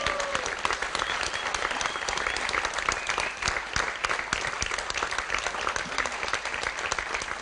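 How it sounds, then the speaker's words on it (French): A large concert-hall audience at a live radio broadcast applauds as loudly as it can, a dense, sustained roar of clapping that stays near and even throughout. "applaudissez une dernière fois pour que tout le monde entende combien on était"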